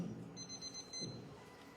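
A timer buzzer sounds in two short bursts at a political primary forum, a steady electronic tone over a low murmur of room noise.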